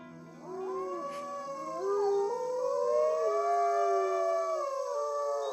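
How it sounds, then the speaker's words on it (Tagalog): A dog howls loudly and close at night, a long wavering howl rising and falling in pitch, sustained alone without talk for several seconds. "nang marinig namin ang malakas at makapanindig balahibong alulong ng aso."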